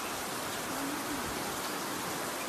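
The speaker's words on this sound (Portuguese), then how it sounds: "Mas agora começou a chover muito" Heavy rain pouring down outdoors at a playground ride, a steady dense hiss of falling water filling the whole clip without a break.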